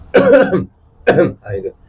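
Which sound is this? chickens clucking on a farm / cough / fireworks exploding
cough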